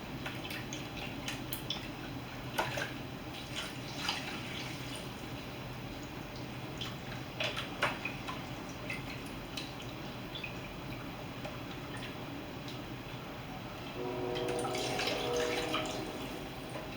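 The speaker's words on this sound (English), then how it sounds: "we're going to pour 2 cups of beef broth into the veggies" Beef broth is poured into a pan of vegetables, faint dripping and small splashes at first, then a fuller steady pour gushing near the end, quiet and close.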